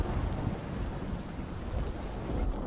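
Storm ambience with steady heavy rain and deep rolling thunder filling the whole stretch, loud and continuous with no voices.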